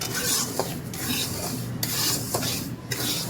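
A spatula scrapes and rasps back and forth across a pan of frying food in a steady rhythm, close up, with no talking.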